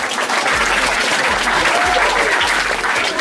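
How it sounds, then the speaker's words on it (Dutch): Audience applause at a book presentation during a Cruijff tournament event, a steady wash of many hands clapping throughout, with faint voices mixed in. "Geef me even een tafel applaus."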